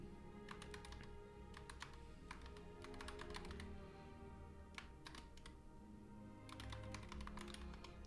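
Keys clatter on a computer keyboard in quick bursts with short pauses between them, as an email address is entered, and the room stays quiet otherwise.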